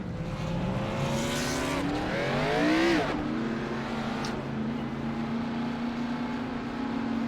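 Race cars roar and accelerate off pit road at a short-track event, engines climbing in pitch through rising sweeps, one car revving hardest near the middle before the pack settles into a steady, loud drone.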